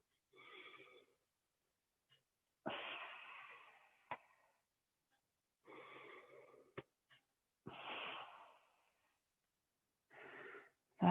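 Audible breaths during a core exercise, close and clear, with a few long wheezy exhales alternating with inhales and separated by quiet pauses.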